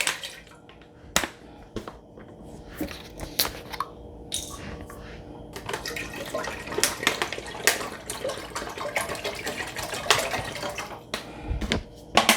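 Bottled water poured into a pot for boiling macaroni, an uneven stream of splashes, glugs and plastic crinkles close by, growing busier as it goes on.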